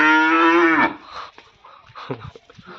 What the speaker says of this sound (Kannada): ನೋಡಿ ಎಮ್ಮೆ